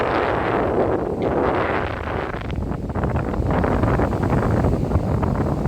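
Strong wind roars and buffets steadily across the microphone, with a low rushing rumble of Black Sea and surf beneath it throughout, on a waterfront embankment in Chornomorsk.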